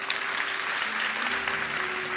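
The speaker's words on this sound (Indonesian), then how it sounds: "Kasih tepuk tangan untuk Tuhan." A church congregation claps together in a steady, sustained round of applause that fills the room, with faint background tones running underneath.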